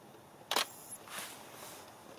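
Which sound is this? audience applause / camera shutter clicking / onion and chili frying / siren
camera shutter clicking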